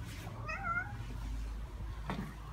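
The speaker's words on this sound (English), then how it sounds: "there was a black and white cat who started yelling at me" A black and white cat gives one clear, drawn-out meow near the start, then a short faint cry later. Low steady hum sits beneath it.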